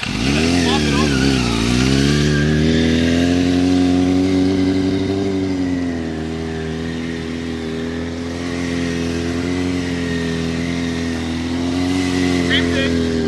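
Dirt bike engine running steadily near the mic, idling and revving in waves with a rising rev at the start, under ongoing talk on a switchback riding lesson.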